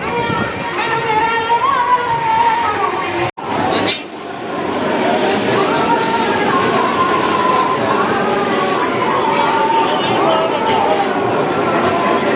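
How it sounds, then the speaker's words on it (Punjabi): A large crowd chatters at a busy village mela in Punjab, a dense, continuous babble of many voices close around, briefly broken by a sharp dropout, then resuming steadily at full loudness. "ਬਹੁਤ ਜ਼ਿਆਦਾ ਭੀੜ ਹੈ ਅੱਜ ਬਹੁਤ ਜ਼ਿਆਦਾ ਭੀੜ ਇੱਥੇ"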